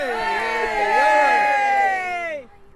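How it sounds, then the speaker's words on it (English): A crowd of parents cheers with overlapping voices, a loud sustained whooping roar that tails off after a couple of seconds. "They can cheer instead, why not?"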